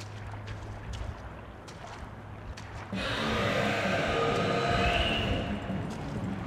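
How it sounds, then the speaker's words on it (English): A train in the video game Bendy and the Ink Machine rumbles in abruptly after a quiet stretch, a loud sustained rolling clatter and rush that fills the scene. "Oh no, it's a train."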